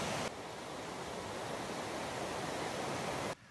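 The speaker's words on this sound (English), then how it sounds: "This is the creek right next to my campsite" Steady rushing of a mountain creek beside a campsite on a long-distance trail, a dense even wash of flowing water that fills the whole clip at a constant level before cutting off abruptly near the end.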